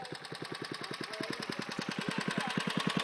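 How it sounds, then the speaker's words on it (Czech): A tractor engine chugs nearby with a quick, even knocking pulse of about ten beats per second. The steady mechanical throb is fairly quiet, with no talk over it. "Traktor?"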